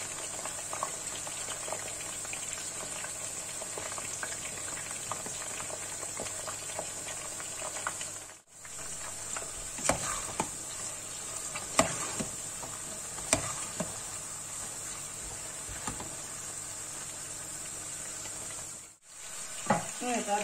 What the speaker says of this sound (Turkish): Böyle karışık koyuyorum ama çok aşırı kızartmıyorum.